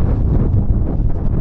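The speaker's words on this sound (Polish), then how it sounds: "aby wiatry były przez 2 dni tak silne jak teraz" Strong wind roars steadily and loudly against the microphone, a dense low rumble with gusting buffets, during a prolonged two-day windstorm.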